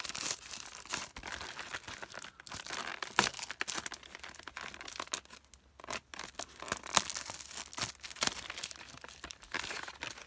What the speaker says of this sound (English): Do you get a lot of nostalgia hearing me just tear the plastic off this Disney clamshell?